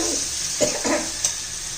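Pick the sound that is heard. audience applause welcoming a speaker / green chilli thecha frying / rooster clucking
green chilli thecha frying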